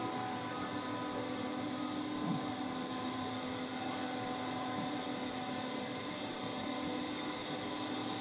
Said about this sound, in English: In here we will have the 22 unit compressor testing at the same time.